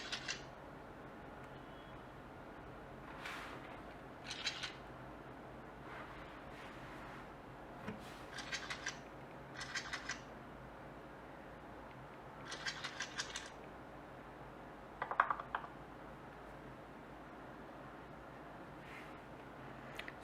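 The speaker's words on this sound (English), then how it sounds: "we actually have to shake the phone to get the dice rolling" A Nokia Asha 311 phone shaken hard to roll dice in a game, giving short bursts of rattling and clicking that repeat in clusters with pauses between, faint and close.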